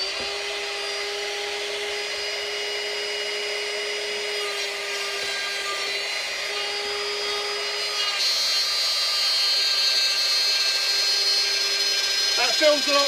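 A Ryobi trim router cuts wood with a steady, high, close whine that holds for the whole stretch and grows slightly louder partway through.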